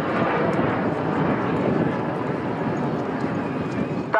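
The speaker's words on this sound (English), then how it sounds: "That is such a beautiful aeroplane" A 1950s military jet performs at the Shoreham airshow, its engine producing a steady, broad, distant roar that holds throughout without a break.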